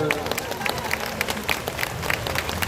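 Audience applauding at a fan festival Q&A, a steady wash of clapping from a seated crowd with a few sharper claps standing out and faint crowd voices beneath.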